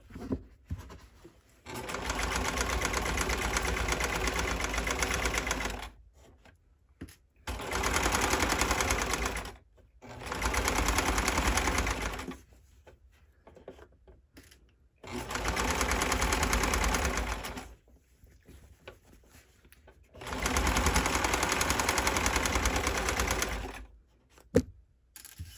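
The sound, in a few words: sewing machine stitching boxers at small stitch length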